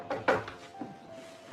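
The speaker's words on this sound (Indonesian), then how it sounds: "ada suara ketukan pintu dari luar" A few knocks on a door from outside a room: two or three soft, hollow wooden raps close together, then quieter taps, faint and fairly close.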